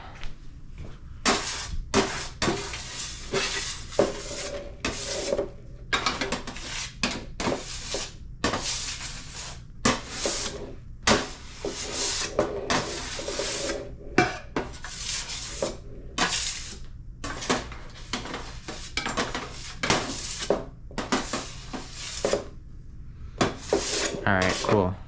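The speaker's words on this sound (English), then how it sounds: "Let me grab that bench scraper. Just to give a little tidy here." A bench scraper rasps across a wooden pasta board while fresh fettuccine is made, giving repeated short scraping strokes in an irregular rhythm, close and fairly loud, with continuous background noise.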